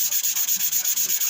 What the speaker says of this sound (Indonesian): Jadi kita gosok aja, kita ampas ya, kita ampas begini ya teman-teman ya.